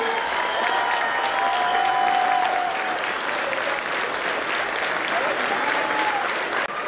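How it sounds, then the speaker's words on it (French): An audience at a firefighters' ball in Mios applauds the local firefighters, dense steady clapping close and loud with crowd noise and a few faint voices mixed in throughout. "si on peut vraiment les applaudir de façon avec beaucoup d'entrain"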